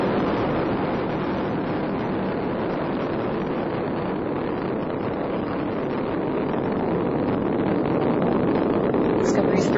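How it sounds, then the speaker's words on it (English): The roaring main engines of the Space Shuttle Discovery, three liquid-fuelled engines, push a broad, steady rumble through the launch of mission STS-131, loud and unbroken with a wind-like rush. "Discovery's 3 liquid-fueled main engines are now throttling down to reduce stress on the shuttle"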